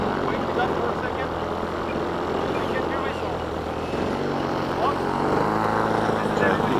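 A gas-powered model airplane engine runs steadily at an RC jet flying event, a continuous loud drone heard throughout under people talking nearby.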